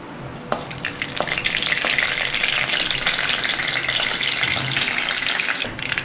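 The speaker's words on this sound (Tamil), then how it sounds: "எண்ணெய் காஞ்சோடனே கொஞ்சம் கடுகு போடுறோம்." Mustard seeds fry in hot oil in a kadai for a drumstick curry, making a close, dense sizzle scattered with sharp pops and crackles that runs steadily for several seconds.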